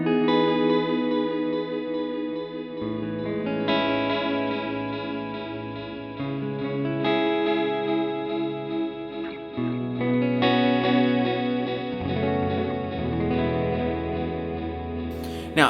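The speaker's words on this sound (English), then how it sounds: "take down the level of the delay and crank the repeats with this modulation on here" Guitar through a NUX Duotime dual delay pedal with modulated repeats, heard as sustained chords and melody washed in wavering, chorus-like echoes, steady and loud throughout with no talk.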